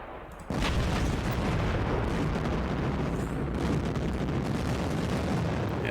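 Heavy artillery fire in the wargame Panzer Campaigns: Smolensk '41 bursts in after a brief quiet moment and becomes a sustained, loud rumbling barrage of booms and explosions that continues without a break.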